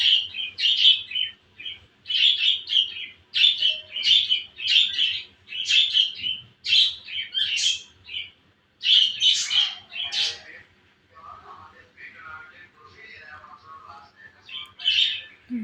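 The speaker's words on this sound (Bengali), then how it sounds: "ওদিকে পাখিগুলো কান্না করছে" Nearby birds chirp and squawk in a long run of repeated shrill bursts, busy and loud at first, then thinner and more scattered calls later on, with no human voices.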